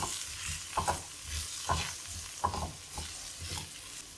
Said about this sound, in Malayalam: കാശ്മീരി ചില്ലി പൗഡർ അല്പം ചേർത്ത് കൊടുക്കാം അത് കരിഞ്ഞു പോകാതെ ഇളക്കി